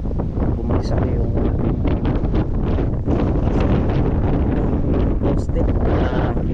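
Strong wind on a farm roars steadily and loudly against the microphone throughout, with a voice faintly audible beneath the gusts.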